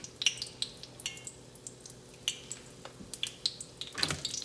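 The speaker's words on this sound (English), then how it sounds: "Hear that sizzle?" Oil crackles and sizzles steadily as doughnuts made from canned biscuit dough fry, with sharp pops and spits scattered throughout and a brief clatter near the end.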